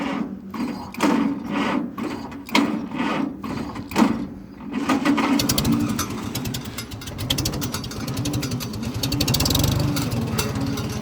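An old tractor engine is cranked with the key and catches after a few seconds of starter clatter, then settles into a steady, loud, rapid idle close by with no talking.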